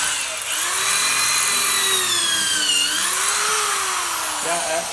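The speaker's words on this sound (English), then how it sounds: "Just switch over to regular drill mode, see if that makes any difference." A 1/2-inch hammer drill in regular drill mode whines at high speed into stone, its pitch wavering as it bites, loud and close with a brief dip and recovery.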